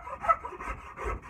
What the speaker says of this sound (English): my file, Nicholson file, and smooth it out the whole way down there